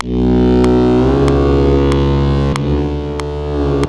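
A heavily distorted, buzzing instrument tone from a distortion effect in Studio One, sustained for several seconds, thick and saturated, shifting pitch around the one- and two-and-a-half-second marks.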